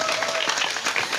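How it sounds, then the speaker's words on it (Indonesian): Audience at an Islamic sermon gives a short burst of dense, steady applause from many people, filling the whole moment. "Tepuk tangan dong."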